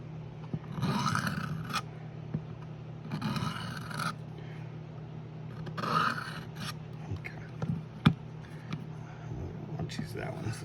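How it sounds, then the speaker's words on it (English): A Hultafors fixed-blade knife edge scrapes across a 400 grit abrasive in repeated rhythmic strokes, soft rasping passes with a voice talking quietly over them. "Let's start with 400 grit."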